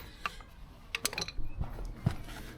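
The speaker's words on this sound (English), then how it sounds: "Next up, we've got to do the rear sprocket, so off with the wheel." The rear wheel comes off a Yamaha FZ6 S2 motorcycle during chain and sprocket maintenance, with faint scattered mechanical clicks, knocks and short ratcheting taps spread unevenly across a few seconds.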